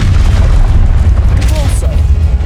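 A Confringo blast spell erupts in the Hogwarts Legacy video game as a loud, close, booming explosion with a rumbling low end that lingers, heard over constant game noise.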